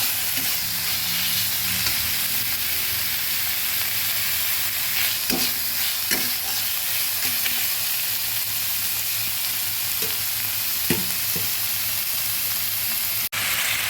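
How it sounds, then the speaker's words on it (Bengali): Onion and ginger paste fries in a pan for a mixed dal, giving a steady broadband sizzle with a few brief stirring clicks and scrapes, close and fairly loud throughout, with no one speaking. "ভালোভাবে ভেজে নেব।"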